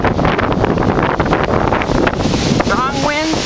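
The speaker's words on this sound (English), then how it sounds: "Strong winds, 60 kilometers an hour of a wind gust." Strong wind gusts of about 60 km/h at the Okanagan Lake seawall in Penticton, British Columbia, a loud, buffeting roar across the microphone with rumbling surges, and a voice begins speaking near the end.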